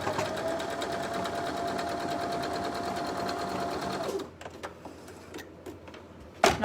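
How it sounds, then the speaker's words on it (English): Close, continuous stitching of a sewing machine running along a fold line on a woven ribbon star quilt block, stopping after four seconds into light handling sounds. "You're going to stitch along that fold line"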